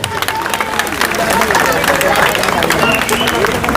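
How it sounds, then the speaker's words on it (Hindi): Crowd at a protest rally at Jantar Mantar breaks into applause and cheering, dense steady clapping with crowd noise for the whole stretch, fairly loud and close. "एक बार संजय जी के तालियां।"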